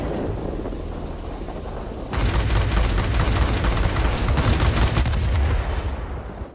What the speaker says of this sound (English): These two are notorious because of their 30mm cannons that are MK-108s, which are notoriously sluggish.